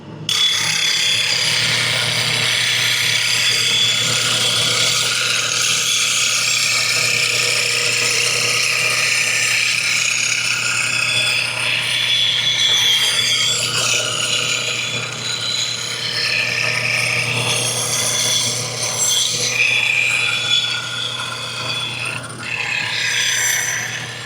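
A bench grinder sharpens a woodturning gouge, a continuous motor hum with a rough, hissing grinding edge that rises and falls as the steel is pressed to the wheel.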